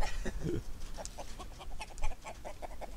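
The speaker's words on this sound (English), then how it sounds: "He is a pretty rooster." A rooster gives several short clucking calls in a quick series, close by and moderately loud, over a low background rumble.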